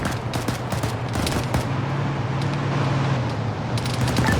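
Sustained suppressing gunfire in the Arma 3 video game during an Afghanistan patrol, dense overlapping bursts of automatic fire rattling steadily over a constant low rumble, with sharper shot clusters near the start and end.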